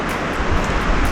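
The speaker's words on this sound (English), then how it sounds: "there's a little waterfall over there" Small waterfall beside a Colorado mountain trail near Boulder Creek, a continuous rushing hiss of falling water, close and steady with no voices.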